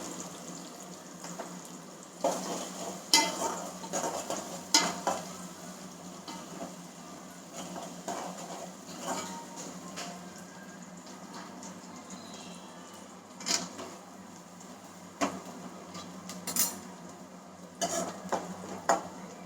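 A pot of curry on a home kitchen stove, with a spoon stirring and scraping against the metal while it sizzles and fries steadily. Clinks and scrapes come at irregular intervals over the cooking noise, with no one talking.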